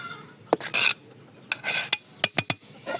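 A tawa griddle is set on the stove beneath a pot of pulao with peas and carrots, giving several close, short metallic scrapes and grinding rubs in uneven bursts, with no voices.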